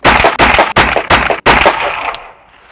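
Five loud, sharp gunshots at a shooting range, fired in quick regular succession and close to the listener, with the reverberation fading into quiet after the last shot.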